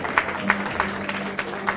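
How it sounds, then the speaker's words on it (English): An audience at a Rotary Club presidential installation claps in a thin, uneven patter, with a few sharper claps standing out at irregular intervals. "if you want to clap for these people, please clap"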